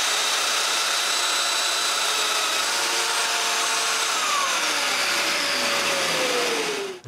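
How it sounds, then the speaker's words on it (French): A domino joiner whines steadily as it cuts mortises into wood, a loud continuous motor tone with shifting pitch that spins down at the very end, with no talking. "je vais percer des mortaises pour des dominos avant"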